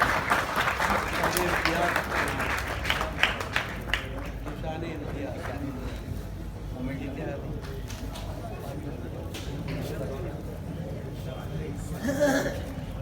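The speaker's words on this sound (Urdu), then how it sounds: "آپ کی زوردار تالیاں بھی ان کیمروں کے اندر جو ہے وہ قید ہو جائیں" An audience claps at an Urdu literary award ceremony, a burst of applause at the start that thins into scattered clapping and crowd murmur, swelling briefly again near the end.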